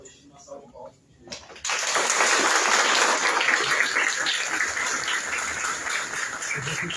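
At a public lecture on Palestine, a roomful of people breaks into sudden sustained applause to welcome a speaker from a Palestinian solidarity committee, the clapping starting abruptly after a quiet moment and continuing strongly to the end.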